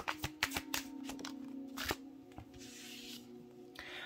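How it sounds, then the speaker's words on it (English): Crisp riffling tarot-reading card shuffles, a quick run of sharp flutters and snaps repeated a few times, close up with no voices. "Let's get one more shuffle before we end the reading."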